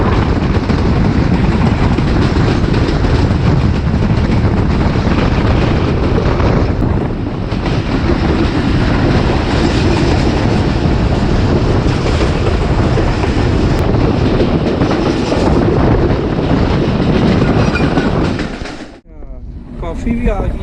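The Jaffer Express from Rawalpindi toward Lalamusa heard from on board, a loud continuous rumble and rattle of wheels and carriages through a long curve, easing briefly near the end.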